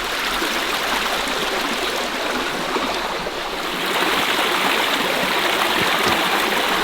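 A river at a property in Portugal flows strongly at night, a constant broadband rushing of water, close and loud throughout with no talking.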